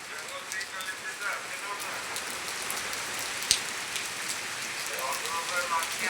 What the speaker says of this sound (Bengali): প্রচুর পরিমাণে মুষলধারে বৃষ্টি হচ্ছে, রাস্তা একবার তলিয়ে গেছে।